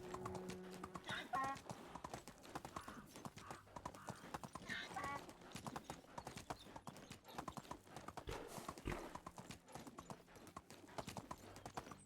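A horse ridden in the medieval farming game Medieval Dynasty, its hooves clip-clopping in a steady, close, continuous rhythm over the game's ambient sound.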